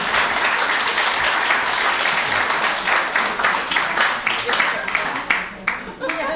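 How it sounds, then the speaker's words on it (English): A conference audience at a Southern California regional CoDA gathering claps for a speaker. The applause is steady, close and full, and it thins and tapers off in the last seconds with no talking. "So we're gonna give you the clap."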